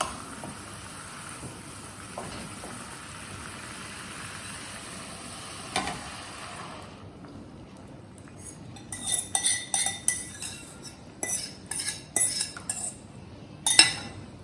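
Spoon clinking and scraping against a pan as curd mixture is stirred over a low flame, quiet at first, then a run of sharp metallic clinks in uneven bursts toward the end.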